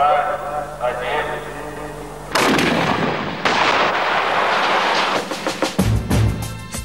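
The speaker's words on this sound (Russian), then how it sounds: "Внимание, выстрел!" An SPG-9 recoilless grenade launcher fires a single sharp, loud blast whose rumble and crackle die away over several seconds, with someone speaking in Russian before the shot.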